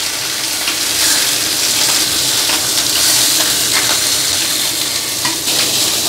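Fish fillet frying in a pan for a Cantonese sour cabbage fish soup, a loud, dense, continuous sizzle and crackle held close, with no talking over it.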